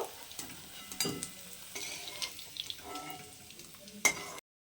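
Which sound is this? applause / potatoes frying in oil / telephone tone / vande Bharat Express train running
potatoes frying in oil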